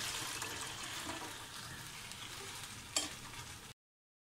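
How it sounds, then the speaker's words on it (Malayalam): Milk and water are stirred in a pot while making palada, a soft, steady wet swishing with a brief clink near the end before the sound cuts off. "നമുക്കിന്ന് നന്നായി ഇളക്കി കൊടുക്കാം"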